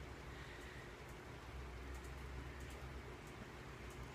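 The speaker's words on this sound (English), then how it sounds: "A rainy day." Steady rain falls on a dull, rainy day, a soft continuous hiss with low rumble underneath, even and unbroken throughout with no voices.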